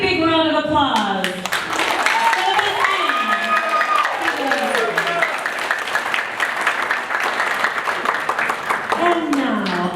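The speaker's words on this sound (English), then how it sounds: "Ladies and gentlemen, a big, big round of applause." Wedding guests applaud in a big round of clapping, steady throughout, while voices talk and call out over it and a tonal voice-like sound rises and falls in the foreground.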